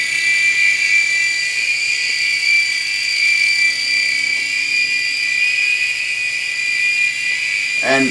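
An Air Hogs RC mini helicopter flies close by with a loud, steady high-pitched motor whine and rotor buzz that holds throughout with slight pitch wavering.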